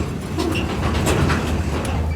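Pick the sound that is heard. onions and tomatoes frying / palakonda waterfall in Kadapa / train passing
train passing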